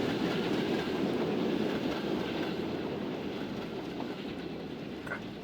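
Steam trains in the Transport Fever 2 game roll steadily along the track with a continuous rumbling clatter of wheels on rails, moderately loud and unbroken, with faint birdsong in the background.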